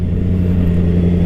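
A 2017 BMW S1000RR motorcycle with an Akrapovic slip-on exhaust rumbles loudly at low revs, a steady deep burbling drone heard up close.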